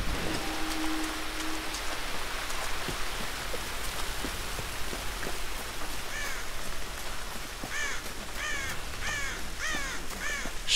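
Crow-like caws from a bird in the Tomb Raider video game, a run of repeated harsh calls in the second half over steady rain falling on surfaces.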